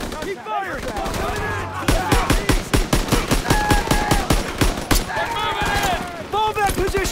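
Loud, rapid bursts of rifle and machine-gun fire in the World War II shooter Call of Duty WWII rattle almost continuously, with shouting voices over the battle.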